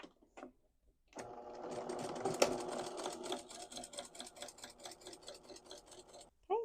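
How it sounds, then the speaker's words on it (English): A sewing machine stitching a French seam on fabric at half-inch seam allowance, with a close, rapid mechanical clatter that starts after a short pause and runs steadily for several seconds before stopping. "So we're going to sew this again around the same seam at 1/2 of an inch seam allowance"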